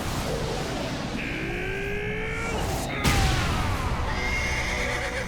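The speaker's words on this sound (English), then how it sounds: "He's actually punching a horse." A horse in the Vinland Saga anime lets out a long, loud whinny over a dense, noisy battle-like background, with a sharp crash near the middle and a second neigh afterward.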